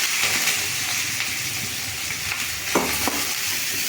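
Chopped tomatoes sauté in hot oil in a pan for a South Indian tomato sambar, giving a steady, close, crackling sizzle with a few sharper pops and stirring scrapes and no voices.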